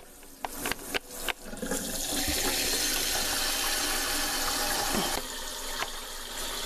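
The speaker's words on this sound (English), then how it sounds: "So just run some water here in the sink and see what happens." Tap water runs steadily into a sink and a handmade coil basket, a continuous close splashing hiss after a few opening knocks and clunks, with no talk.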